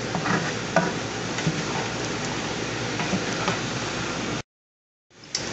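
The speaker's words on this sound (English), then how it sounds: "Move them around and just kind of form scrambled eggs around all that other good stuff you cooked." Scrambled eggs stirred and frying in a pan at breakfast, a steady soft hiss with occasional scraping stirs, cutting to silence briefly near the end.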